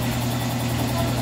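A 40 hp outboard engine idling with a blocked cooling-water outlet, giving a steady low mechanical hum with a faint vibrating buzz, close and unbroken.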